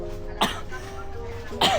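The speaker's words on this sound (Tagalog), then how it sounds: "Wait lang, inuubo ko." Two sharp coughs about a second apart, close by, with a soft murmur of background noise between them.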